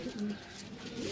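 Pigeons at a pigeon sale coo in short low burbling calls, fairly faint amid background noise, over a little more than a second.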